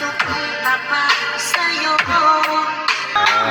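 Slow rock music plays steadily through a car speaker, with soft beats, sustained chords and a bright melody, moderately loud and without talk.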